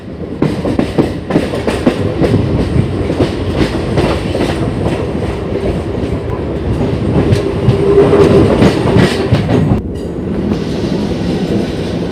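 A Santragachi–Amta local passenger train runs steadily on the rails, with continuous rumbling wheel noise, rhythmic clickety-clack over rail joints and a brief faint squeal, loud and close from on board, with no talking.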